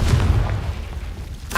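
Bombarda and Confringo spells cast in the video game Hogwarts Legacy produce a loud explosive boom that rumbles and fades, then a sharp new burst strikes right at the end.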